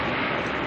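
A Dash turboprop, flight NZ5223 from Whangarei, arrives at Auckland airport at night, giving off a loud, steady propeller and engine roar close by.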